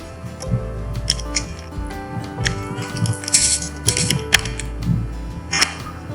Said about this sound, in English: Now I will type transactions for this.